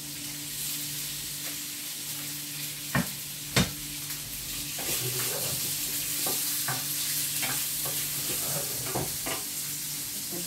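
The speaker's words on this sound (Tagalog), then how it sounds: "Igisa lang po natin ang salmon, prawns," Salmon and prawns sizzle steadily in a hot pan while being sautéed, with a constant frying hiss and occasional sharp utensil clacks and stirring scrapes, no voices.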